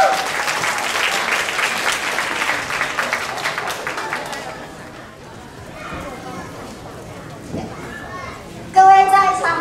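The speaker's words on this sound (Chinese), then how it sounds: "掌声鼓励。" An audience claps warmly at a church Christmas party, the applause fading after about four seconds into scattered voices, children and a few bright tones near the end.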